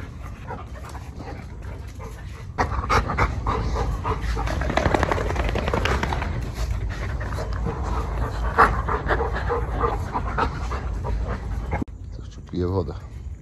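Several dogs pant rapidly and whimper close by, an excited breathy rhythm with occasional yips, while someone speaks over them.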